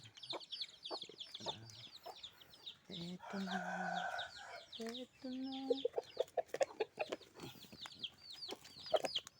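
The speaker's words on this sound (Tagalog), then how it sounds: "Ito ng manok na pula ko guys" A red chicken clucks and calls close by, with bursts of loud cackling and a crowing note, while a person speaks briefly.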